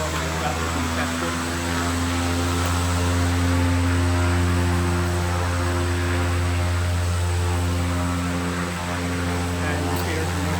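An aircraft engine drones steadily at Ogle Airport, a loud, close, unbroken propeller hum that holds for the whole stretch, with a person speaking over it.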